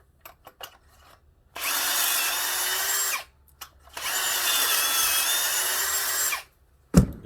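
A power drill driving screws whirs in two long bursts of about two seconds each, separated by a short pause, with a sharp knock at the end, while building a wooden farmhouse end table.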